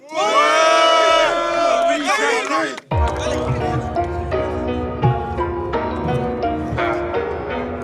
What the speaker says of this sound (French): faites du bruit les gars, faites du bruit